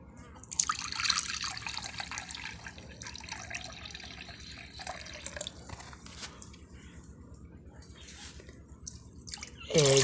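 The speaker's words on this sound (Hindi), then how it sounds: "पानी उठा रहा हूँ।" Water poured while cooking, with milk and jaggery already added, a close splashing trickle that runs strongly at first, then softens and turns intermittent, ending with a louder burst.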